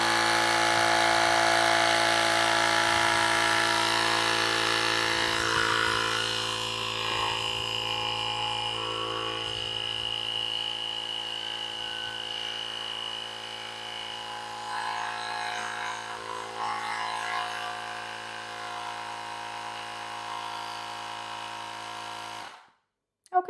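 An INNOVV digital tyre inflator and emergency power bank pumps up a ball with a steady, loud motorized buzzing hum for about twenty-two seconds, easing slightly in pitch before cutting off abruptly, with no talking.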